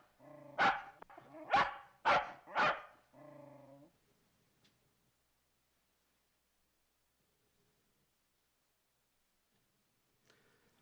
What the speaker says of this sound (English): Actually, he was barking at a fishhook.